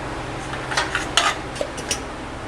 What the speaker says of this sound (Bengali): এবার আমি ঢাকা দিয়ে দেব